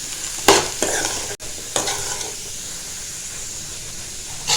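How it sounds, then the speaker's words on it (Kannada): Tamarind sizzles in a hot pan with fried carrots for a carrot chutney. A steady close frying hiss runs throughout, broken early by a few scraping stirs of the spoon. "ಹುಣಸೆ ಹಣ್ಣು ಹಾಕಿ ಒಂಚೂರು ಹುಣಸೆ ಹಣ್ಣು ಬಿಸಿ ಆಗೋ ಮಟ್ಟ ಅಷ್ಟು ಮಿಕ್ಸ್ ಮಾಡ್ತೀನಿ"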